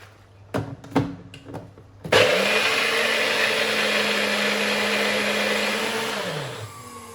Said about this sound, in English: And then we'll whisk this up in the blender thingy.